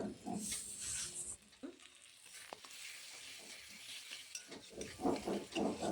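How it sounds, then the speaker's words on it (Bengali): Tomatoes being stirred into a spice masala in a pan while cooking a tangra fish and potato curry, giving soft scraping stirs and a low sizzle, close and moderately quiet, with a few intermittent clatters. "টমেটো দিয়ে আবারও ভালোভাবে মিশিয়ে নিচ্ছি"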